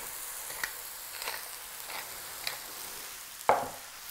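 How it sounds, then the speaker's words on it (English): Mushrooms frying in a pan for coq au vin get a few light stirs, soft scrapes repeating every half second or so over a steady quiet sizzle, ending with one sharper knock of the utensil. "Give this a little stir."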